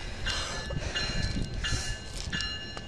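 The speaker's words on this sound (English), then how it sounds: "Train stopped right before he moves." A train halting on the tracks, with metallic screeching and tonal squeals from the wheels over a low rumble, recurring in bursts.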